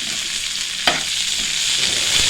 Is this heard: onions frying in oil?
yes